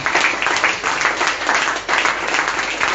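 A church congregation applauds and cheers in praise of the Holy Spirit, a steady, dense wave of clapping with crowd noise that holds loud and close for the whole stretch.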